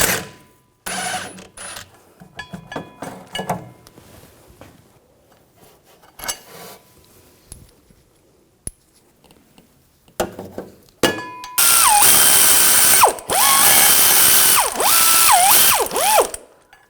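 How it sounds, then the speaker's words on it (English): A ratchet with an 18mm socket turns bolts on the driveshaft coupler of a 2007-2013 BMW X5, giving scattered clicks and brief metallic handling early, then long, loud, steady ratcheting bursts close up. "And for the other bolts with the nuts on the back, use an 18mm wrench on the nut,"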